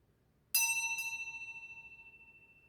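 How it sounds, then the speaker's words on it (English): A small bell from an antique store is struck once, then tapped lightly a second time, giving a bright, clear ring that decays slowly and shimmers in a quiet room. "I'm going to ring a bell and clear the energy while you pick a card."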